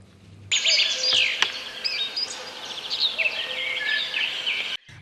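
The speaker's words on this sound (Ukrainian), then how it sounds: "Буяє зелень, співають птахи, ледь шумить трава." Several birds chirp and trill in overlapping high, busy song in a forest, steady and fairly close, with a soft outdoor hush underneath.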